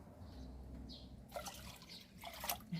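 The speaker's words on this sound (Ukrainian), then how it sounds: "І тепер додаю ще чистої води." Clean water is poured into a green fertilizer mix for feeding cucumbers, heard as soft trickling and splashing that grows louder in the second half, close and fairly quiet.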